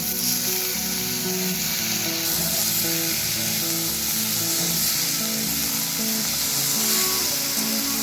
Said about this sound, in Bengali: মুগের ডালকে আমি মিনিট খানেকের মতন এইভাবে নেড়ে নেব।